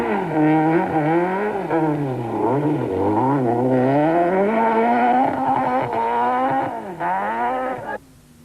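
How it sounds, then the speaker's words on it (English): A Volkswagen Golf rally car on a gravel stage of the 1992 Swartland Rally snarls close by, its engine revs rising and falling through quick shifts and braking before dropping away abruptly. "catches Leon Butter here on stage 13 when the Golf overshoots under braking, sending spectators and marshals scattering"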